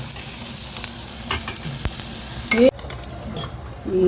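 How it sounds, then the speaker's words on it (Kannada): Hot oil tempering with mustard seeds for masala dosa potato filling sizzles and crackles in a pan, with a metal spoon stirring and a few sharp clinks, close and steady. "ನಾನು ಈ ದೋಸೆಗೆ ಇವಾಗ ಆಲೂಗಡ್ಡೆ ಪಲ್ಯಕ್ಕೆ ಒಗ್ಗರಣೆ ಹಾಕ್ತಾ ಇರೋದು"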